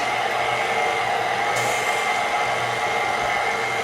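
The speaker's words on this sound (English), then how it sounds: "The mixer will start having a hard time once we get towards the end" An electric stand mixer runs continuously, working flour into stiff sugar cookie dough with a loud, steady motor whine and hum, close by and unbroken by talk.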